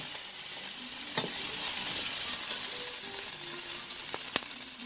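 Mussels frying and being stirred in a pan with olive oil, a steady close sizzle running throughout, broken by a few sharp scraping clicks of the stirring utensil.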